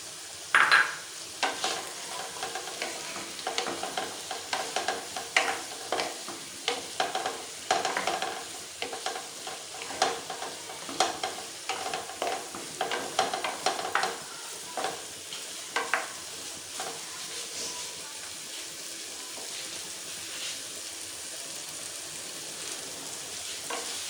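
Fish cooking with green chillies in a pan, a continuous close sizzle overlaid with frequent stirring scrapes and clinks of a spatula for most of the stretch, settling into steady frying near the end.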